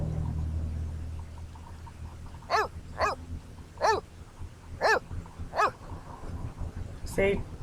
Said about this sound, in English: Boner always barks at everything.